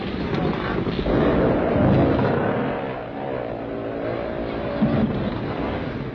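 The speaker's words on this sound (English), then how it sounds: "Those extra grip tires help to pull the bikes up the hills and over the top." Scrambling motorcycles fitted with extra grip tires race up hills at a scrambles meeting with a large crowd, their engines a loud, continuous rumbling roar that swells and eases as the bikes climb and pass.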